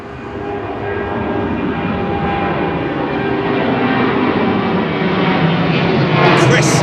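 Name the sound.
jet aircraft taxiing at Anchorage airport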